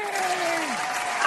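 Live studio audience applauding and cheering for a comic book artist guest on a talk show, a dense steady wash of clapping with a whistle-like tone sliding down through it.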